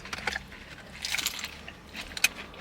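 Crunchy food is bitten and chewed close to the mic at a mukbang, with a few quick, crisp crunches and some wet chewing.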